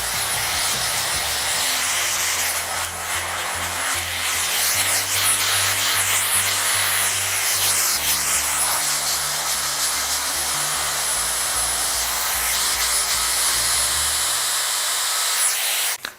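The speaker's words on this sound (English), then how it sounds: "So I blow dry my front hair to my face and my back hair backwards." A Dyson Airwrap blows hair dry in a steady, loud, continuous rush of air with a low motor hum beneath it, shifting slightly as the styler moves through the hair.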